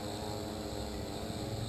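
A hovering drone's propellers give off a steady, even whir that holds continuous and fairly close throughout, with no talk over it.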